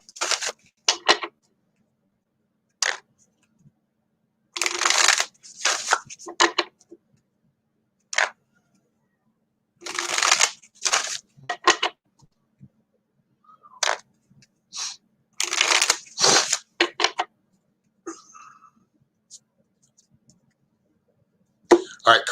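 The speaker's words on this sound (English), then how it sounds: "All right, cards are shuffled, Linda." Tarot cards shuffled by hand at close range, quick crisp riffles and flicking bursts spaced by silences, with no speech over them.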